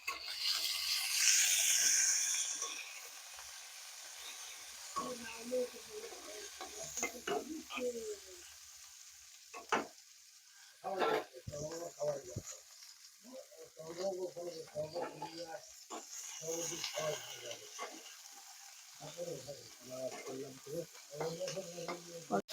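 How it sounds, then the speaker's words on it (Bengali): Potato and pointed gourd curry frying in a pan is stirred with a utensil, giving repeated scraping and rubbing strokes over a low sizzle, fairly quiet and close, with a brief louder hiss at the start. "আমি এখন নাড়াবো"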